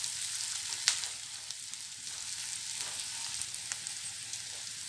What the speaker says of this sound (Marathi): आपण कांदा छान लाल परतून घेणार आहोत